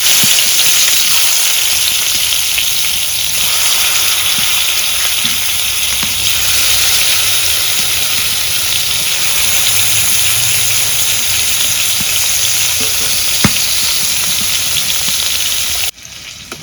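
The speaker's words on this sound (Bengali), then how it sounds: "এখন ভাইজা নেই।" Fish coated in spices frying in a pan in a village kitchen, giving a loud, steady sizzle with a constant hiss throughout and no talk.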